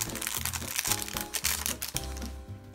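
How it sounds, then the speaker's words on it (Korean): Close crinkling and tearing of plastic packaging as a phone grip is opened, in quick crackly bursts with a brief pause near the end. "디지톡도 한번 뜯어볼게요"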